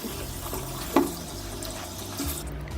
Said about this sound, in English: Rinse with the walnut sponge and take off all the soap from everywhere